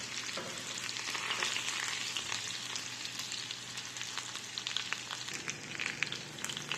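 Garlic frying in a little oil over medium-low heat makes a quiet, continuous crackling sizzle with faint scattered pops, heard alone.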